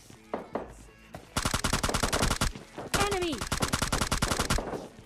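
Rapid automatic gunfire in a shooter video game, two loud sustained bursts of closely spaced shots separated by a short pause, with an in-game voice line and a rising tone over the second burst.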